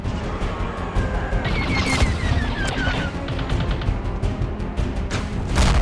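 Gunfire shooting down enemy ships in a large-scale Star Wars conquest battle, a loud continuous barrage of blasts and crashes with a whistling streak passing overhead, busy and close throughout.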